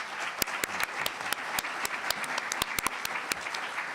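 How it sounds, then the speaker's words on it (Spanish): Audience at a half-day seminar on labour-book procedures giving a round of applause: sharp scattered claps, moderately close and fairly sparse, over a soft room murmur. "Un aplauso, le pido a ellos la exposición."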